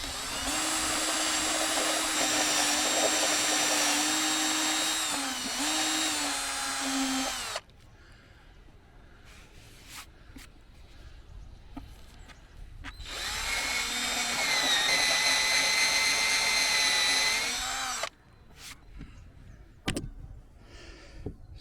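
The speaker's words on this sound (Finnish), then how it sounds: "nyt mulla on tuossa porakone ja siinä on tämmönen terä, niin porataan semmonen 20 millinen reikä siihen" A power drill bores a 20 mm hole through a camper van roof in two long whining bursts, each several seconds of steady close motor noise, separated by quieter handling clatter and clicks.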